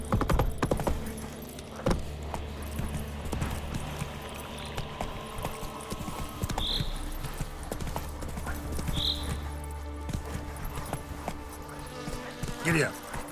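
Horse hooves clip-clop steadily at a gallop in The Witcher 3, with occasional whinnies and tack jingling, while a man urges the horse on over the hoofbeats.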